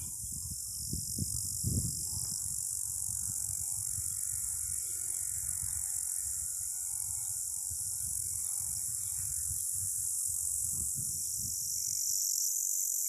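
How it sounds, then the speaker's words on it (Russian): Grasshoppers chirp loudly in a dense, unbroken high buzz in the village of Cherga in Altai, with low gusty rumbles underneath throughout. "А слышите, как стрекочут кузнечики?"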